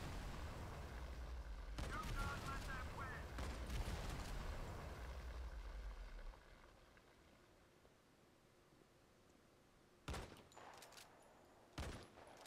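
Gunfire in the mobile shooter Modern Combat 5 during an online match; loud sustained shooting for several seconds, then quieter background with two sharp bursts of shots near the end, with some talking.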